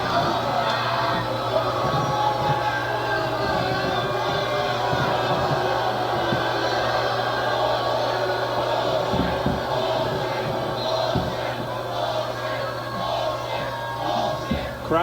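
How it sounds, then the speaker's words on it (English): Volleyball arena crowd at a Stanford vs. Oregon women's match giving a steady murmur of mild disapproval after a lift call, a continuous broad rumble of many voices with no sharp peaks, no individual words distinct. "Crowd disagrees just a bit."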